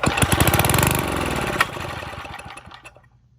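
A small engine fires on starting fluid, sputtering in a rapid, close pulse for about a second and a half, then dying away in slowing, fading chugs.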